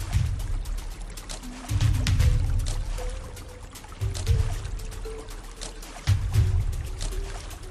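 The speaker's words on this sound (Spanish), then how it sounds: "sigue golpeando el agua, tratando de atraerlo a él lo más cerca posible." A boat captain slaps the surface of the Tárcoles River in Costa Rica to draw in a crocodile. Three heavy, sloshing slaps land about two seconds apart over a continuous low motor drone and water noise.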